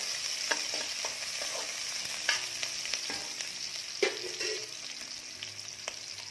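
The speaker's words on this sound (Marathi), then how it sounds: "आलं थोडं परतलं की त्यामध्ये कांदा टाकणार आहोत। कांद्याचा रंग बदलेपर्यंत छान भाजून घेऊया।" Ginger and onion fry in a pan for a Malvani-style egg curry, giving a continuous close sizzle with frequent clicks and scrapes of stirring throughout.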